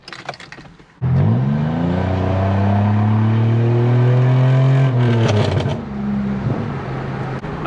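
A Ford Mustang's engine rumbles close and loud, holding a steady deep revving drone for several seconds before easing off, then rising again briefly.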